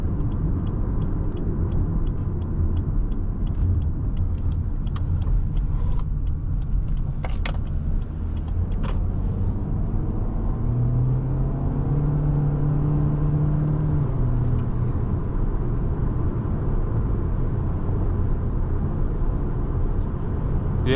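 A 2019 Lexus UX 200 with a CVT drones steadily from inside the cabin while driving, a continuous low engine hum with a brief rise in pitch partway through, plus faint occasional rattles.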